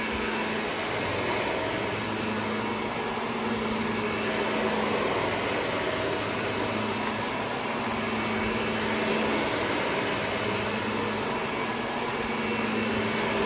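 A brushless vacuum cleaner with brushroll agitation runs steadily and loudly throughout, giving a continuous close-up whooshing drone over a low motor hum, with no voices.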